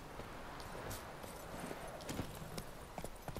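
Horse hooves clip-clop in a steady trotting rhythm in The Witcher 3 video game, faint and spread across a soft background hiss with no talk.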